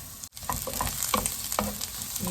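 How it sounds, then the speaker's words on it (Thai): Crackling sizzle of sliced onions frying in hot sesame oil, with a few spatula scrapes and clinks over the steady spitting of the pan. "กระทะร้อนน้ำมันร้อนก็ใส่ หอมหัวใหญ่นะคะ หัวใหญ่ซอยค่ะนะคะ"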